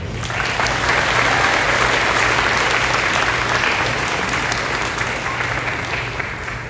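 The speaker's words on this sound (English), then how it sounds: "Please give him a warm round of applause" Warm applause from the crowd at a 12th grade graduation ceremony for a visiting senator, a broad, even wash of many hands clapping that holds strongly and tapers slightly toward the end.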